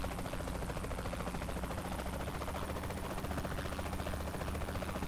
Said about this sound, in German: Ich fliege jetzt hier 3 Folgen lang nur mit dem Hubschrauber hinter dem Typ da her.